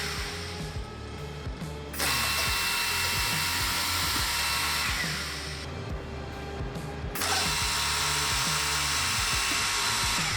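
Ayen SKB-50 boring machine cycling twice with pneumatic hold downs, each cycle a burst of high whining drill spin and hiss over mechanical clicks, close and fairly loud.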